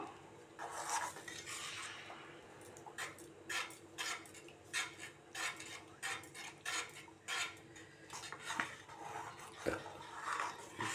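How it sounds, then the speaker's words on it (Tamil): Spoon scraping and stirring thick palm-jaggery halwa made with maida and ghee in a pan over a low flame, a quiet, rhythmic series of close scrapes with occasional knocks against the pan. "சிம்மில் வச்சுக்கணும் கைவிடாமல் கிண்டிகிட்டே இருக்கணும்"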